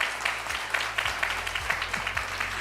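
Forum audience applause after a session at the World Knowledge Forum, a steady wash of clapping heard from a distance in a large hall, with low hum and rumble underneath.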